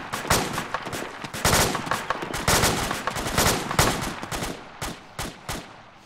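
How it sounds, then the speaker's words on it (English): FAL rifle gunfire in a tactical video game, rapid loud bursts of shots in quick succession, followed by a few spaced single shots near the end. "Coming from our right. FAL fire."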